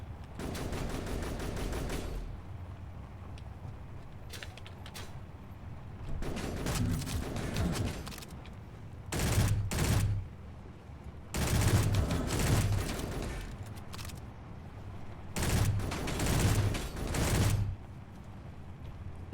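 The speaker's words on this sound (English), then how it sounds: "Oh, that's two guys shooting." Two enemies open fire in the shooter game Conflict Europa Alpha, loud bursts of rapid automatic gunfire that come in repeated volleys separated by brief lulls, close and sharp.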